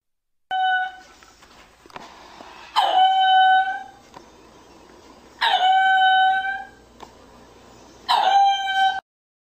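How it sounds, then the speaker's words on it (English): A mongoose gives three loud, separate high-pitched calls spaced a few seconds apart, each a sharp tonal cry, with faint scratchy sounds in the quiet stretches between them. "Mongoose."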